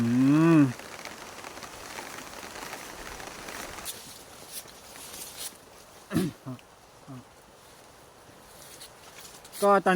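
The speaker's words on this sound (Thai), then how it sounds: "ตอนนี้ก็ฝนตกหนักมากเลยนะ" Heavy rain falls during outdoor mushroom foraging in the countryside, a dense steady hiss that eases after a few seconds, with a person talking over it and brief louder knocks and rustles.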